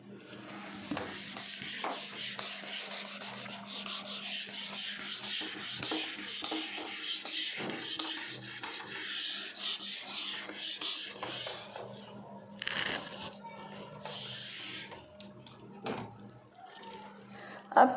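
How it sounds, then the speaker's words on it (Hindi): Writing rubbed off a board, a continuous close scrubbing and rasping that runs in uneven strokes for most of the stretch, with brief pauses and no one speaking. "तो हम इसे रब कर देते हैं"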